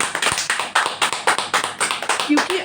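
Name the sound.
congregation clapping in church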